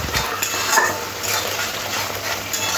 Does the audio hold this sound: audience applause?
no